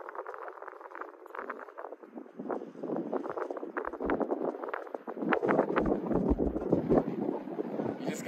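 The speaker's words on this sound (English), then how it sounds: "Like right now, this wind is insane." Strong gusts buffet an outdoor microphone, a continuous low roaring rumble that swells and surges, growing heavier toward the end, with no clear speech over it.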